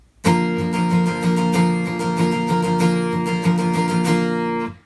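A steady acoustic guitar strummed evenly and continuously on one chord pattern, full and loud, with no pauses or accents for several seconds.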